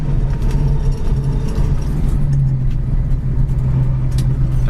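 Engine of a 1966 Mustang coupe with a three-speed transmission, running steadily at close range with a constant low drone and a slight shift in pitch partway through as it is downshifted.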